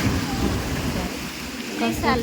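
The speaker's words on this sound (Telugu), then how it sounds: "వర్షం వస్తుంది కదా" Steady rain hisses in the background at an outdoor market in Hyderabad while a voice briefly speaks near the end.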